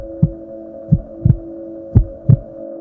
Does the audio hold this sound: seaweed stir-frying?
no